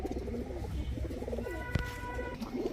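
A pair of Kaldom pigeons coo softly in low, rolling murmurs, with a few other birds chirping faintly nearby.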